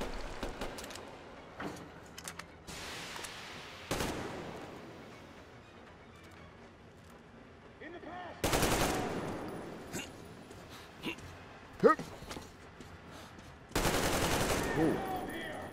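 Gunfire in the video game Metro Exodus: broadband bursts of shots at several points, with two long loud volleys standing out against a low background of game ambience.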